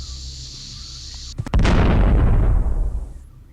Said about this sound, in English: so the bomb did not blow up my face